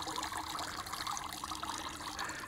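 Water trickles steadily off a freshly dipped, wet rabbit pelt back into a bucket, a continuous close splashing dribble with no voices.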